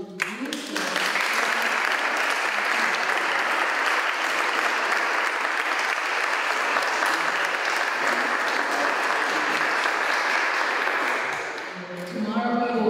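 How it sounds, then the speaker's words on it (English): Sustained audience applause at a design workshop event in the Dominican Republic, a thick, even roar of clapping that holds steady for about eleven seconds before tapering off as it ends. "Let's give a hand of applause to"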